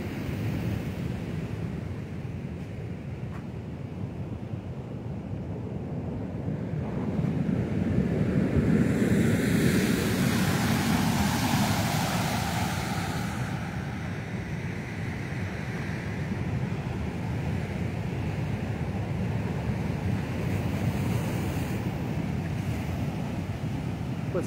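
Ocean surf rolling onto the beach at El Paraíso, Colima, after heavy swells, a continuous broad wash of breaking waves that swells louder in the middle, mixed with wind buffeting the microphone.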